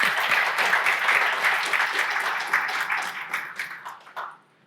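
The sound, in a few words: audience applause for panelists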